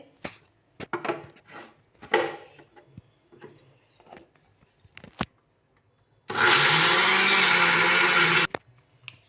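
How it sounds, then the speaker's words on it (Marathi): Short bursts of clatter and handling, then a loud mixer grinder whirs for about two seconds grinding spice paste before cutting off. "आता सगळा मसाला मी ह्या मिक्सरच्या भांड्यात घेतलाय. मी आता बारीक करते."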